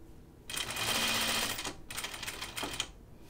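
A sewing machine edge stitches a shirt collar in two close, steady runs of rapid whirring, the first longer than the second, with a short pause between and quiet after.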